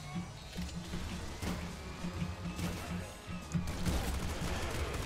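Rapid game gunfire from a double pop gun in Nuclear Throne Ultra Mod on hard mode: a quick string of short pops and bursts over busy, steady in-game music and effects.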